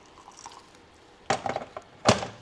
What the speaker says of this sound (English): The first thing I do is pour in a little hot water